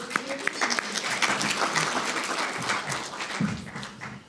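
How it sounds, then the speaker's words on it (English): A conference audience at a final session applauds, with dense clapping and some cheering that swells and then tapers off, and a few voices rising near the end. "I think you're cheering because it's the final session"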